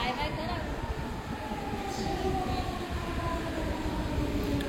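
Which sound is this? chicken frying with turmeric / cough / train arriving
train arriving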